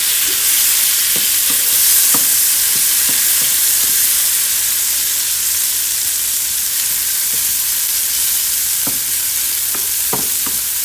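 A tomato sauce for pan-seared salmon sizzles loudly and steadily in a hot pan as alcohol cooks off, with scattered light clicks of stirring throughout.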